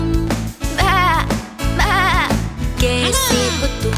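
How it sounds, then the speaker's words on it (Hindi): Cartoon sheep bleats in a short series of loud, wavering calls from close by, each separated by brief pauses, with no talking over them. "भेड़ करे बा"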